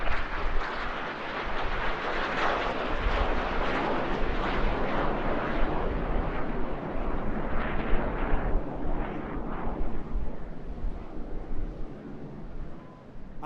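Red Arrows synchro pair jets roaring away at an airshow, a loud sustained broadband rumble that stays dense throughout and eases slightly as the aircraft recede.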